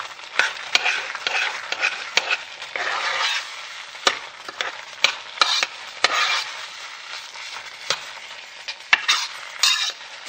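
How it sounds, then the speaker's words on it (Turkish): Bulgur stirred into a cooking pot for mercimek köftesi, a spoon scraping through the grains with repeated rustling, scraping strokes over a faint sizzle, close and steady with no talk. "Şimdi bulguru ekleyip karıştırıp kapağını kapatacağım ki bulgur kabarsın."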